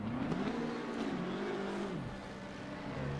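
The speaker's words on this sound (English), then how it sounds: "Honestly, the car from the outside sounds really nice." A Reiter R-EX Lamborghini Gallardo race car at Monza in Assetto Corsa Competizione, its engine droning and rising in pitch through the gears as it passes, then dropping away, heard alone at moderate volume.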